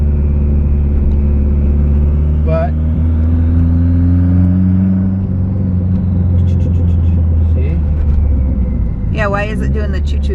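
A Mitsubishi Eclipse 2G car rumbles loudly from inside the cabin, the engine note rising and falling under acceleration, with brief chirping turbo flutter bursts and people talking over it.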